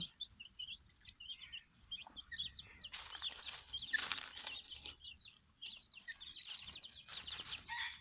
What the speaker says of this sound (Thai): ซิลกี้ เป็นไก่ ของอเมริกา